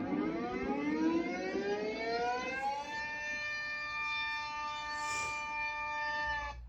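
An Illinois EAS alarm siren rises in pitch as a layered, harmonic wail, then holds a steady, piercing tone. It sounds moderately distant, with faint background noise beneath it.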